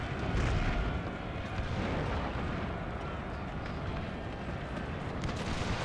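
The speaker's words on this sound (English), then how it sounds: "we can see the cannon shots bouncing here towards the choke point" Cannon fire in a Total War battle set in the Thirty Years' War, heard as a continuous dense rumble of distant booms and bursts blended into loud battlefield noise throughout.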